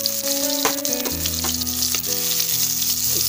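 Onions sizzle steadily in hot oil with whole cumin and coriander seeds, cooking for a Bengali shrimp and ash gourd dish; the close, continuous frying runs over a faint tonal background.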